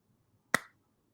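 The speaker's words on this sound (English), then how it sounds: "if I were to clap my hands" A single sharp hand clap rings out once, loud and close, with a quick decay into near silence.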